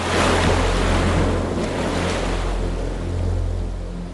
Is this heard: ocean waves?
yes